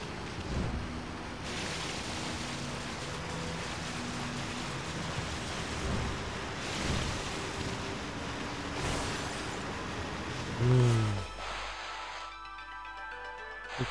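Waterfall water in the video game Okami pours as a steady, rushing wash of noise, a constant roar with a sharper game effect near the end.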